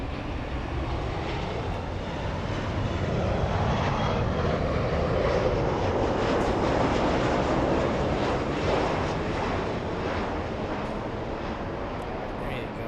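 A WestJet Boeing 737 airliner at LAX gives a steady, loud jet engine roar that holds for several seconds, with some wind buffeting on the microphone.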